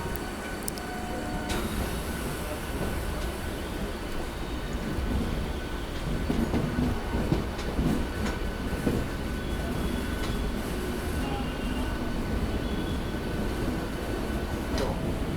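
A Howrah to Bandel local train runs steadily in the rain, a continuous rumbling roar with rattling carriages and occasional clicks, heard from inside the coach.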